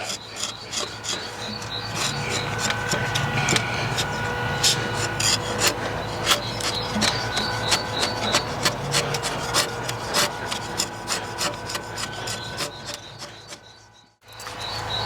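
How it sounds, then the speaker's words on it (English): A chisel pares and shapes wood with a continuous run of close, rhythmic scraping and rasping strokes, fairly steady throughout, with a brief quiet break near the end and no talking. "This is where I'm up to with just the chisel."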